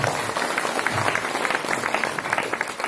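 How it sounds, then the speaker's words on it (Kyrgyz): An audience claps in a steady, moderately loud wash of applause with individual claps standing out, with a faint murmur of voices underneath. "Кол чаап койсоңуздар"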